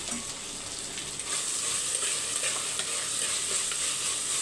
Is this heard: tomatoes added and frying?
yes